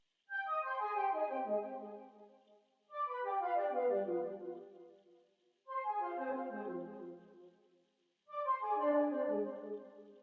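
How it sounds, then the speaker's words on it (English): Maniac arpeggio synth preset from a Loophole bank in Analog Lab, played with effects off: four separate descending arpeggiated phrases, each a bright cascade of stepped notes sliding downward and fading, with short gaps between, clear and alone. "I picked this Maniac preset from another Loophole bank, and it was like arpeggio"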